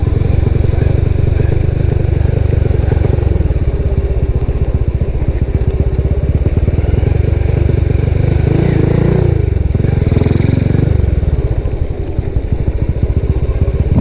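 Motorcycle engine labouring steadily as it climbs a steep, rough road toward Embung Nglanggeran reservoir in the Gunungkidul hills, with a continuous loud low rumble, gear changes and shifts in engine note midway, and some clatter throughout.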